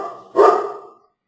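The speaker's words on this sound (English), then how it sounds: "Hey Bob, the dogs really liked the webinar. They liked it so much they're barking for it" A single loud, close dog bark rings out once after a brief quiet moment, then trails off into silence.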